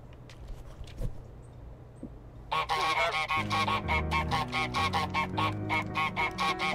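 A goose in Untitled Goose Game honks repeatedly, a quick rhythmic string of loud nasal honks following quieter footsteps and clicks, against a light background musical tone.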